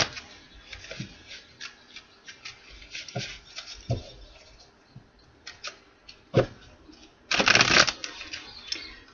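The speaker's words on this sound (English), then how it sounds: "I'm going to get a couple cards from the Fortune Teller deck." A Fortune Teller deck of cards being shuffled, with soft riffling and rustling bursts scattered across the clip, including one longer loud shuffle near the end, close and alone.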